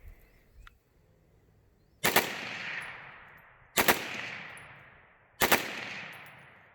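Three loud double-tap gunshot bursts from a custom 7.5-inch 300 AAC Blackout AR pistol with a Maxim Defense SCW brace, firing polymer-tipped hunting rounds; each pair of sharp cracks rings out and decays over about a second, with quiet gaps between.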